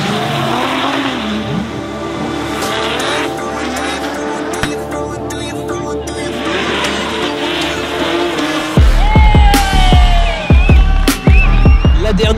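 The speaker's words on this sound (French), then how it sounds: "Avec une S15 de Gisèle. Qui fait un bruit bizarre" A Nissan S15 drift car at a French drift championship revs loudly while tires squeal in long, wavering screeches, with a harsher burst of engine noise and skidding toward the end.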